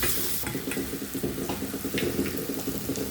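Green chili and onion sautéing in a pan with a little salt, a steady close sizzle with scraping stir strokes throughout, no voices.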